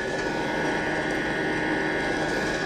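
Steady engine roar of an Airbus A320 during its takeoff roll down the runway in a flight simulator game, a constant, even drone with a sustained tonal whine and no talking.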